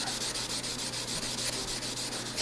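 A Scotch-Brite pad scrubs back and forth across a coated sporting gun stock in quick, even rasping strokes, close and continuous, with no voices.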